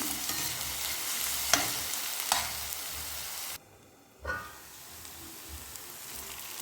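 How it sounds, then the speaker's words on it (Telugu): Sliced onions fry with salt and curry leaves in a pan for mutton kheema, a steady sizzle broken by a few scraping stirs and a brief near-silent gap before the hiss returns. "మనం ఈ ఉల్లిపాయల్ని కొంచెం సాల్ట్ వేసుకొని ఫ్రై చేసుకుందాము."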